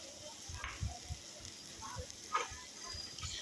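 Chopped large onion frying in a pan, a faint, soft sizzle with scattered crackles and small stirring knocks at an even, quiet level.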